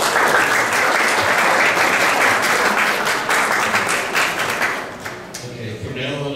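Audience at a neighborhood candidate forum applauding, a dense sustained clapping from many hands that gradually thins and fades toward the end.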